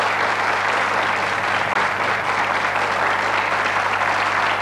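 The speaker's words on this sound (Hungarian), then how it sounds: "Egy nagyon nagy tapsot kérnék szépen Pálnak." Loud, dense applause from a crowd at a game-show style farewell, sustained evenly throughout with no talk over it.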